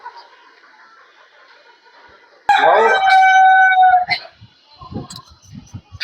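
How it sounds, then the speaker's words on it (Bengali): Fayoumi chickens on a poultry farm: a loud rooster crow rings out in the middle, with scattered clucks and soft farm noise around it. "এই যে দেখুন, ফাউমি জাতের বিশাল মুরগির খামার।"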